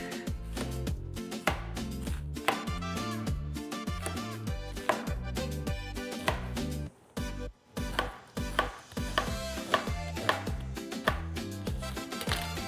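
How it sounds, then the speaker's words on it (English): A knife slicing an onion on a cutting board for sausage and peppers, heard as a quick run of close, crisp cuts and taps with a couple of brief pauses midway and no speech. "we're just gonna slice the onion like we would normally if you're gonna do sausage and peppers"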